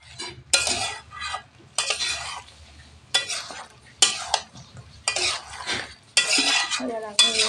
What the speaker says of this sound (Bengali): এবার আমি এইভাবে কষাতে থাকবো।